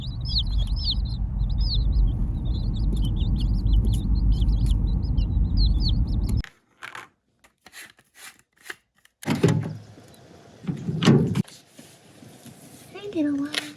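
Newly arrived baby chicks in a warm brooder peep in rapid, high, overlapping chirps over a loud steady low hum, which then cuts off, leaving a few sparse thumps and a person speaking near the end.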